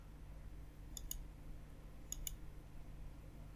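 Two pairs of crisp computer mouse clicks about a second apart, faint and close over a quiet room hum.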